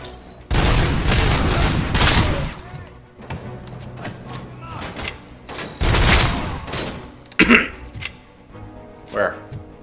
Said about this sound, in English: That's enough shooting at me now.